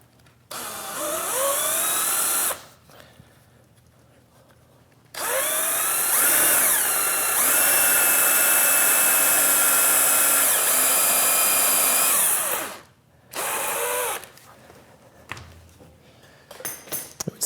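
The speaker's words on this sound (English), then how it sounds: "I'll use a number 8 drill" Power drill boring a tap hole with a number 8 bit for an M6x1 thread while mounting a DRO on a PM-940 milling machine; loud whining bursts with rising pitch sweeps, separated by short pauses.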